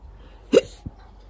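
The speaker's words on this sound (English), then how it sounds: "Pardon me, I've got hiccups." A single sharp hiccup from a person close to the microphone, followed by a softer second catch in the throat, in an otherwise quiet setting.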